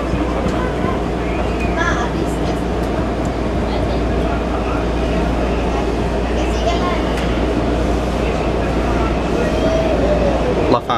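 A Washington DC Metro 2000 series Silver Line train leaves Federal Triangle station, heard from inside as a loud, steady low rumble and hum with faint squeals, while a voice speaks over it.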